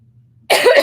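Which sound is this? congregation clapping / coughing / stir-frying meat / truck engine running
coughing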